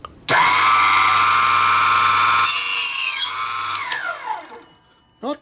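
A Proxxon KGS 80 mini mitre chop saw cuts flat stock held in its vise with a loud, sustained high whine that shifts pitch partway through, then winds down with fading grinding rattles before a final short knock.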